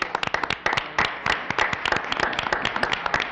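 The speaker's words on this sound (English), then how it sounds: "I think he deserves a big round of applause." A small group applauding at a city commission meeting, distinct individual claps clearly separable in a quick, uneven rhythm, close and moderately loud with no talking over them.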